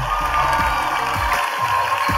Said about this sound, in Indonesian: sekarang kita berikan juga semangat dan tepuk tangan untuk Bala Bali JR.